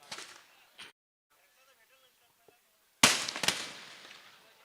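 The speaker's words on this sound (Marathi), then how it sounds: "फटाक्यांच्या आतिषबाजी ते होते" Firecrackers burst at a local cricket match after a big hit, with a short pop early on, then a loud cluster of sharp crackling bangs in the last second and a half, faint voices in the background.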